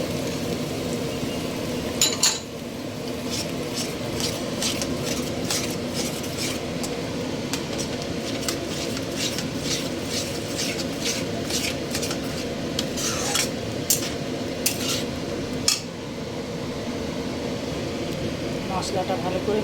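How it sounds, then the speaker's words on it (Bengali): Spice masala fries with a soft steady sizzle in a pan as a utensil stirs and scrapes, with occasional sharp clinks against the metal, for a chana kofta curry. "মশলাটা ভালো করে কষা হোক"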